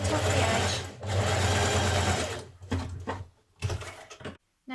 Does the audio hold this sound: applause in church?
no